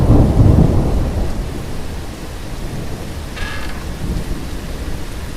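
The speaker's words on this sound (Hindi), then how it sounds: "उसने देखा कि बाहर बहुत तेज बारिश हो रही थी।" Heavy rain pours down outside a school while a deep, loud roll of thunder rumbles at the start and fades into a steady, dense rain hiss.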